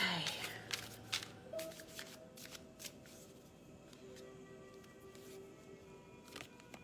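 Playing cards being shuffled by hand, a few quick riffling bursts followed by softer handling and tapping, close and fairly quiet, with faint background sound.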